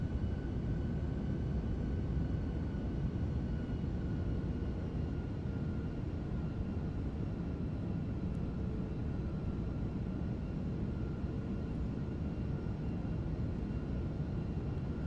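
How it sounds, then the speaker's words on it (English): Airbus A340 jet engines in the MSFS 2024 flight simulator, a faint, steady low droning hum with a faint constant tone above it, unchanging and alone throughout. "It records the sounds of the engines as well."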